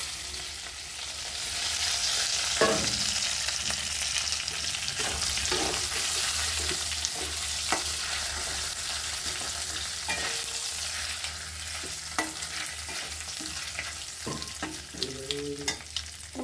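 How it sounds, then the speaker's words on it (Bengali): Whole dry red chilli, cumin seeds and a bay leaf crackle in hot oil, a dense continuous sizzle with scattered pops and occasional utensil scrapes, close and steady throughout. "আমি এর মধ্যে এবার এই যে একটা শুকনো লঙ্কা, গোটা সাদা জিরে আর তেজপাতাটা আমি ফোড়ন দিয়ে দেবো।"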